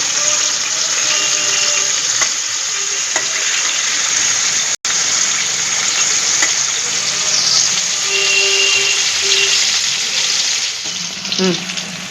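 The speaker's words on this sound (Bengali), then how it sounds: "আমার উচ্ছেটা ভাজা হয়ে গেছে।" Bitter gourd pieces coated in turmeric fry in oil with a loud, continuous close-up sizzle that holds steady, broken by a brief sharp click and occasional stirring.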